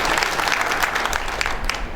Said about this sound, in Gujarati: કંઈક હોલસેલમાં તો તાળી પડો